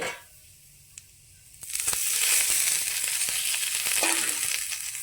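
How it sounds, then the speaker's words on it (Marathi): Onion pieces dropped into a hot pan after roasting coconut, for a rustic Marathi bombil and brinjal dish: a quiet moment with a light tap, then a sudden loud sizzle that holds steady with crackling spatters to the end. "कांदा टाकते आपल्याला बारीक भाजायला थोडं टाकते"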